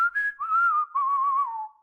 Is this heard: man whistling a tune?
yes